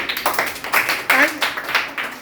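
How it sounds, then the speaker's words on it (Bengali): A classroom of students claps for a classmate named Tajbid, a short burst of scattered, uneven hand claps at close range that fades after about two seconds. "আচ্ছা, তাজবিদের জন্য হাততালি।"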